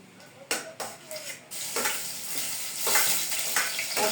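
Garlic and ginger sauté in a hot pan for a prawn curry, a steady sizzle broken by sharp scrapes and clinks of a spoon stirring against the metal.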